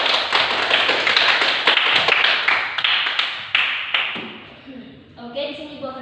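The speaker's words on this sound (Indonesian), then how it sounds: "Beri tepuk tangannya untuk" Classroom applause from a group of students, a dense patter of many hands clapping steadily, fading out toward the end as a voice starts speaking.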